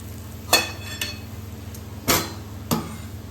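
A spatula scrapes and knocks against a pan while mohanthal mixture of gram flour and ghee is stirred and roasted, four distinct metallic clacks over a quiet low hum.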